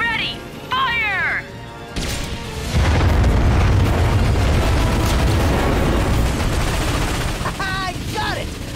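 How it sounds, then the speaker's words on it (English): A Starwatch ion cannon fires on warships in the Ratchet & Clank (2016) game, a deep heavy boom swelling into sustained roaring blasts, with short robotic synth chirps heard before and after. "Cannon's ready! Fire!"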